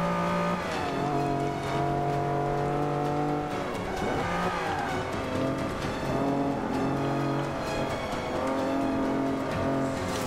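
Race car engine in Forza Motorsport 5 revving and accelerating through gear changes, a loud continuous whine rising and dropping with brief tire squeal, alone without talk.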